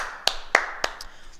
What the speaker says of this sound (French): Et on s'applaudit.